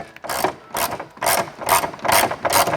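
Ratchet wrench tightening a rivet nut on a Ford Mustang Shelby GT350 fender, five evenly spaced bursts of rapid clicking up close, each stroke a crisp mechanical rattle separated by brief pauses.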